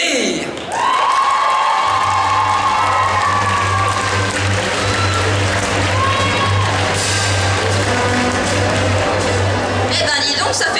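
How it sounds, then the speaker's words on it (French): Crowd at a cosplay contest cheers and claps loudly for the jury, a dense roar of applause and shouts over a steady low hum, with voices mixed in. "une grande acclamation pour les..."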